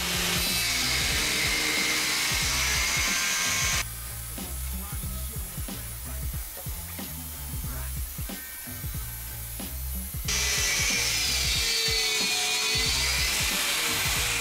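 A 1600 W corded angle grinder with a thin 0.8 mm disc cuts steel, a loud continuous grinding whine with rasping rhythmic scraping, close up, easing slightly mid-cut before returning at full intensity.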